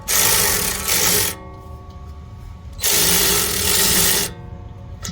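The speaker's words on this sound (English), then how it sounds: "use one of my favorite little battery operated wrench" A small battery-operated wrench drives long hub bolts on a 2013 Ford Edge rear hub, two loud close whirring bursts each lasting over a second with a quieter pause between them.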